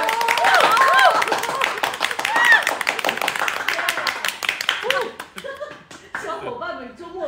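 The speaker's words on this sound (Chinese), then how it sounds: "掌声有请" An audience claps to welcome a guest on stage. The applause is steady and fairly close at first, with a voice talking over it, then it thins out and fades after about five seconds while speech continues.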